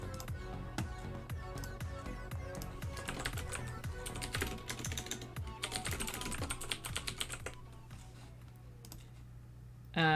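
Rapid clicky keyboard typing, a steady stream of sharp key clacks in bursts at close range that stops abruptly near the end.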